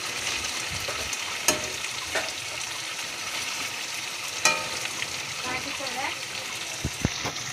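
Meat frying and being stirred in a pan, a soft continuous sizzle with occasional scrapes and clinks of the stirring spoon, fairly quiet and close.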